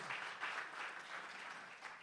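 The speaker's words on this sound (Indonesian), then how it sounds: "Beri tepuk tangan buat Tuhan Yesus." A church congregation at a Good Friday service applauds in a continuous, even patter of clapping, moderately quiet and slightly distant.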